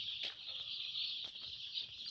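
Faint, constant high peeping from a group of broiler chicks resting after food and water during brooding, a soft chorus with a few louder chirps.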